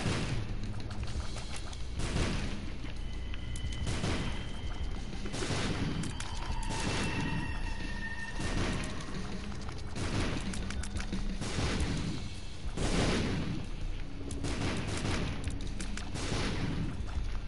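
Bombs explode in The Binding of Isaac, a run of sharp, loud booming bursts repeating every second or two over a busy game soundtrack, with no speech.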